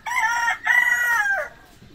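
A rooster crows once on a farm among hens, a loud, near, drawn-out call in two sustained phrases that falls away at the end, with no talk over it.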